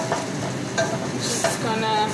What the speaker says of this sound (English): Start melting the butter.